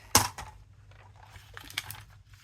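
Scissors cutting through a folded paper calendar page, one sharp close snip at the start followed by quieter crinkling and rustling snips, set over a low steady hum.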